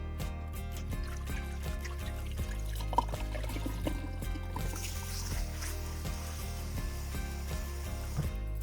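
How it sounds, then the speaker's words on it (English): Fresh water pours and trickles as rice is rinsed in a bowl, a steady, soft, close liquid sound over a continuous tonal background. "I would say at least 3 rounds of fresh water, or until you start to see that the water is running a bit clear."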